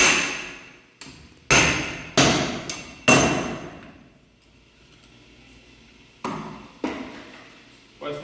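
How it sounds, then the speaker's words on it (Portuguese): Marshall compaction hammer striking an asphalt specimen in a mold, heavy percussive blows at irregular intervals, each sharp impact ringing and decaying, about eight strikes with a quieter gap in the middle. "Centraliza o soquete e aplica 28 golpes"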